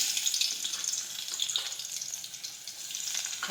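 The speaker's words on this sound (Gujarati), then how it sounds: "હવે આપણું તેલ છે તે ગરમ થઈ ગયું છે. હવે આપણે તેમાં ખાંડેલું લસણ નાખીશું." Crushed garlic sizzling in hot oil, a steady bright hiss that stays loud and continuous throughout, with no talking.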